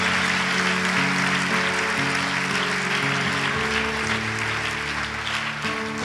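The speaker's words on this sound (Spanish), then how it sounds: "¿Por qué no le da un aplauso al Señor con todo su ser?" Church congregation applauding during a service, continuous clapping blended with sustained organ or keyboard chords underneath.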